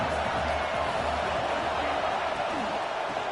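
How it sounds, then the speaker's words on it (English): Stadium crowd noise from the NCAA 25 college football video game, a dense steady roar of cheering fans filling the background continuously, loud and even throughout with no distinct individual voices standing out. "This crowd knows when to bring it."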